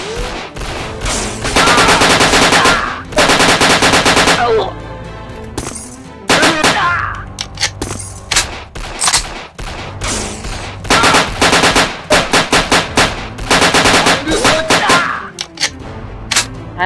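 Long, loud bursts of video-game machine gun fire rattle in rapid repeated volleys, broken by short pauses, with occasional sharper shot impacts between the strings, and no voice over them.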